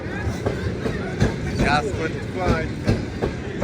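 Railway wagons roll past at close range, a loud rumbling clatter with rhythmic clickety-clack wheel beats, while voices talk over the noise.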